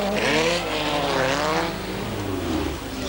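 Racing cars lap a track, with several engines whining and roaring past in overlapping sweeping pitch changes, loud and close, the noise easing slightly toward the end.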